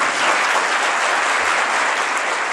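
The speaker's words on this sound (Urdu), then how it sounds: "زور سے تالیاں بجا دیں خدا کے لیے." Loud, steady clapping from a Pentecostal church congregation, dense and continuous from start to finish with no voices rising above it.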